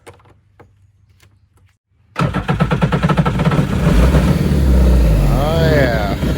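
A 130 horsepower four-stroke fuel-injected engine on a mini jet boat cranks and catches after a quiet start, then settles into a loud, steady, rumbling idle close by, with a person talking briefly over it.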